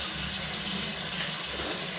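Steady running tap water rinsing zucchini noodles in a kitchen sink, a continuous even splashing hiss with no pauses or talk.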